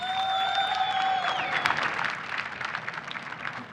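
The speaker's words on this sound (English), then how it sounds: "a round of applause for Team Envious" An arena audience at the 2015 Champion of Champions CS:GO grand final applauds Team Envious. A voice comes first, then dense crowd clapping swells and carries on steadily.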